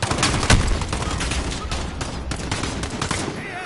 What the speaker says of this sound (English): Cluster strike, that's what it is.